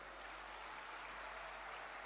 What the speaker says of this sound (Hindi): आप भी तालियां बजा के अभिनंदन करें